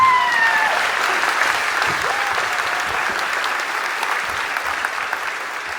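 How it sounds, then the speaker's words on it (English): Crowd at a citizenship ceremony in Campbell, California claps steadily for several seconds, a dense even wash of applause that gradually softens, with a faint tone briefly at the start. "Go ahead, clap."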